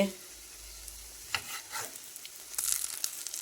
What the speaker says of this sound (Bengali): এখানে মিমির জন্য পোস্তের বড়া হচ্ছে